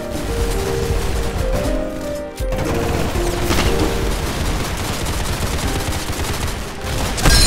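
Dense, continuous gunfire from the Roblox shooter Arsenal, with rapid overlapping shots and bursts forming a loud, unbroken wall of sound that dips briefly once before carrying on to the end.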